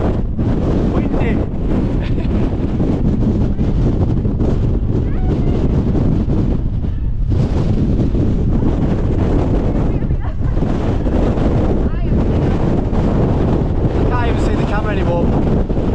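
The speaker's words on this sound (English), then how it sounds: "It's so windy." Gale-force wind on a Lake District fell in the Langdales roars and buffets the microphone in a loud, unbroken rush lasting throughout.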